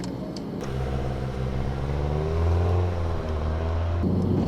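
A car engine accelerates steadily in first gear on a racing circuit during a driving assessment, its rising harmonic drone loud and close throughout, with the revs climbing before easing off near the end.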